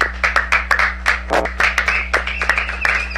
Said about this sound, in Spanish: Muchas gracias, un aplauso.